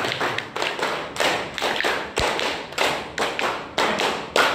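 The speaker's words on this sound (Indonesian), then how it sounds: "3 kali tepuk 5." A group at a school gathering at SMPN 4 Adiwerna claps a counted pattern of fives repeated in three rounds, sharp loud claps in even rhythmic bursts with short pauses between sets, no talking.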